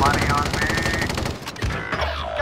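Rapid automatic gunfire from a video game firefight bursts loud and continuous, with the player under fire amid layered game effects and occasional voices.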